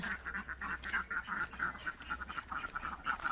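Ducks quack repeatedly on a rural Thai farm, a close, rhythmic run of nasal honking calls over a steady low background hum.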